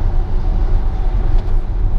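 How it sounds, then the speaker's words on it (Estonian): A car passes close by a Tesla driving on autopilot, heard as a loud, steady road roar and rumble from inside the vehicle that stays strong through the short moment, with no talk. "läheb üks auto mööda"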